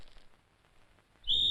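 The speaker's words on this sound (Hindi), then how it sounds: "मेरे बाप ने सीटी बजा दी है।" A single sharp whistle blast in a Hindi action film scene, bursting in loud and shrill after a quiet stretch and holding steady to the end.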